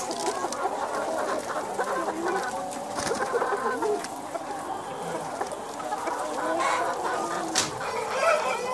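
Roosters on a poultry farm clucking in a busy chorus, with repeated nearby clucks and calls overlapping in an irregular rhythm against a steady background.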